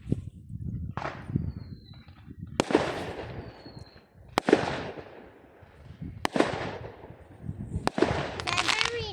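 Bonfire Night fireworks burst outdoors in the UK: about five sharp bangs a second or two apart, each trailing into crackle, with a fizzing shower at the end. Faint voices are heard between the blasts.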